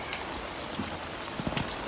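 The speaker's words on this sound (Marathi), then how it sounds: "चिरमिरी चिरमिरी पाऊस आहे" Light drizzling rain patters steadily on a surface in Konkan during the Ganpati festival, a fine continuous hiss with occasional nearby drops tapping.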